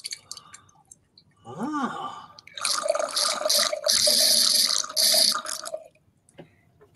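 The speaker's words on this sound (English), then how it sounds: "you just hold it up like this, and you pour the wine through" Wine glugs through an aerating decanter into a glass: a brief gurgle, then a few seconds of steady splashing, bubbling pour that stops abruptly, close and fairly loud.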